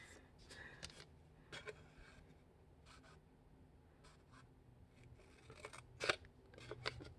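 Scissors snip through paper while a paper airplane jet is being shaped, making a series of quiet, close, crisp cuts in irregular bursts over several seconds, with a few sharper snips near the end.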